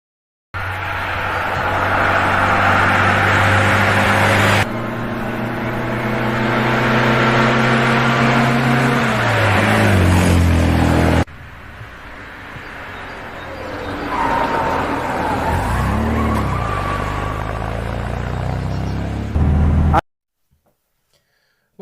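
An MGB sports car heard from outside while being driven for handling, engine droning and revving through gear changes with rising pitch sweeps as it passes, then fading before a short silence at the end.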